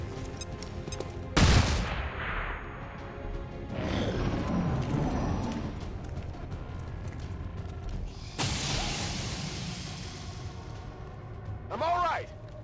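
Video game gunfire crackles in bursts, with a sharp loud volley, whooshing sweeps and thuds, and a later second burst, all over a constant layer of game noise.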